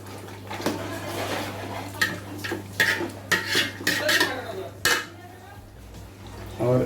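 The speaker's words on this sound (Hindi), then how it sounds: "और एक जैसे जो है इसे हम लोग भून लेंगे ताकि लहसुन की कच्ची खुशबू निकल जाए।" Garlic paste being stir-fried in a pot while making nihari, with a metal spoon clattering and scraping against the pot in irregular bursts over a low background hum.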